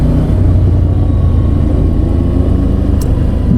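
Loud, steady low rumble of a 2016 Ducati Scrambler twin-cylinder motorcycle engine under way on the road, droning continuously with a brief sharp click near the end.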